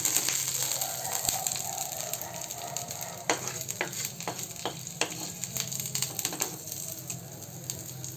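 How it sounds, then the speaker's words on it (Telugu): Curry leaves fry in a pan for a tangy raw tamarind rasam, a constant crackling sizzle under repeated close scraping and tapping strokes of a spoon stirring. "ఇదిగోండి కరివేపాకు కూడా వేగింది"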